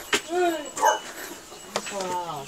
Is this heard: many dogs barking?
yes